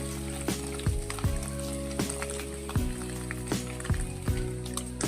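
Marinated paneer frying in oil for a dhaba-style meal, a steady loud sizzle with crackling bursts and repeated clanks of a utensil against the pan over a constant background hum.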